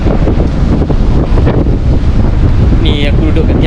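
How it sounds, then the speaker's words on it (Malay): Strong wind buffets the microphone beneath a bridge by the sea, a loud continuous roar with gusty surges and no speech. "Wih, angin kau petang ni."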